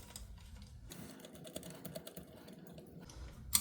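Screws being driven and tightened into an FX Leopard air rifle chassis, giving faint, quiet clicking and scraping taps in an irregular rhythm, close by with no talking.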